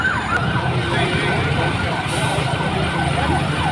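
Fire truck sirens wail at a fire in Pasong Tamo, Quezon City, with many fire engines responding; several rising and falling tones overlap continuously over a dense, loud background of crowd and street noise.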